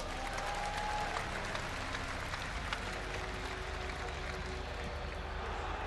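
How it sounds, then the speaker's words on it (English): A crowd applauds at the IEM GamesCom StarCraft semifinal, a dense, steady wash of clapping and cheering that fills the whole few seconds. "Ladies and gentlemen, give a round of applause for Azubu's viOLet."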